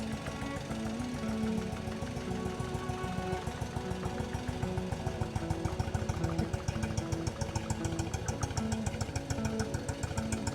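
A BMW R60/7 motorcycle engine, fitted with electronic ignition, idles steadily with a fast, even putter, close by and unchanging, with no voices over it.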